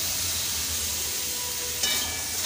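Onions and mushrooms sizzle in a hot pan for a Bengali home dinner, giving a steady close hiss of frying with a brief brighter crackle near the end, no voices.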